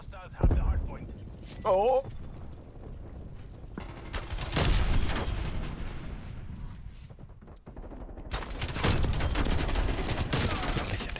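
Gunfire in the Black Ops Cold War video game comes in sharp repeated bursts and scattered volleys between quieter stretches, with people talking over the fighting.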